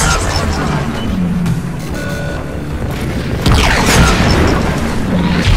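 Heavy weapon fire in Crysis 3, a dense, continuous barrage of booming low thuds and mechanical clatter, steady and loud throughout, with a stronger burst near the end.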